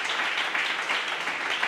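Church congregation applauding in praise, a dense, fairly quiet burst of clapping from many people, steady across the short moment with no clear talk over it.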